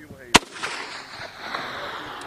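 A Swedish anti-tank missile launcher fired by US Marines gives a single sharp, loud blast early on, followed by a fading roar and outdoor ambience with faint voices.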